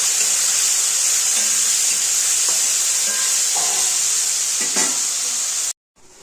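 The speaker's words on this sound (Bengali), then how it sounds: "এবার একটু ভেজে নেবো ভালো করে" Potato and eggplant pieces fry in a pan with green chilies, salt and turmeric powder, giving a steady close sizzle with occasional stirring scrapes before cutting off abruptly near the end.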